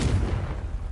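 A Confringo fire spell bursts in a Harry Potter video game, one heavy, booming blast that hits hard and then rolls away over about a second.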